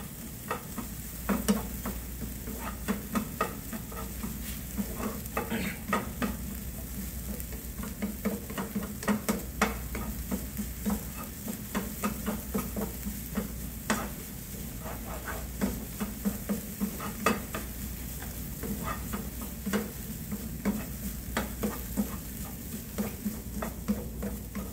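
Spinach and other ingredients for a Salisbury steak stir-fried in a pan to drive off moisture, a steady close sizzle and hiss with frequent light scraping stirs throughout, no talking.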